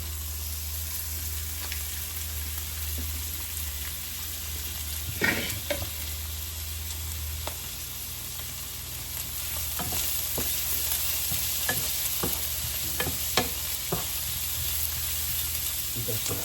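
Ingredients with chili sauté in a pan in a steady crackling sizzle, stirred with scattered spoon clinks against the metal, close up over a low hum.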